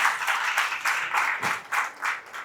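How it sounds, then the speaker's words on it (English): A small audience at a college quiz claps in scattered, uneven bursts, moderately close and fading and swelling over a couple of seconds with no talk over it. "audience, please give them a big hand."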